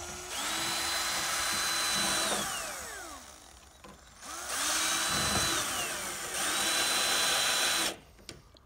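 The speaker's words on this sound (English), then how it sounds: "simply take your hand drill" A handheld power drill drives a single screw to fix a gutter downpipe in place, its motor whining loudly in three long bursts that rise and fall in pitch, with brief pauses between them.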